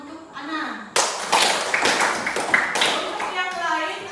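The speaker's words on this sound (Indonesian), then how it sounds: "berikan tepuk tangan untuk Ana" Students in a classroom clap for a classmate, a burst of loud, dense applause lasting a few seconds that fades out, with voices heard faintly before and after.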